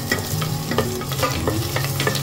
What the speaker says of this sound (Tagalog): pag mainit na yung mantika natin, add natin yung bawang